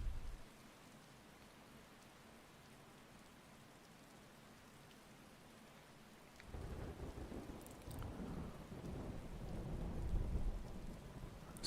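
Thunderstorm in the video game Skyrim: rain hisses steadily, then a deep rumble of thunder swells and rolls on for several seconds, fairly faint overall.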